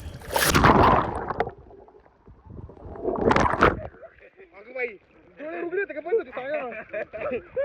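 A swimmer plunges under the water of a river with a waterproof phone, making two loud bursts of splashing and gurgling, followed by muffled voices talking.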